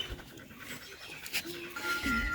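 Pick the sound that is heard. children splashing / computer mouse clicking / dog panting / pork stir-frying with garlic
dog panting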